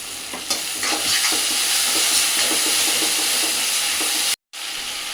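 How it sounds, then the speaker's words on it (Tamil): Onions and tomato fry in a pan for a chicken curry, giving a loud, steady sizzle with faint stirring scrapes, then a brief cut to silence before the frying resumes. "வெங்காயம் நல்லா வதங்கிச்சு, தக்காளி போட்டுக்கலாம்."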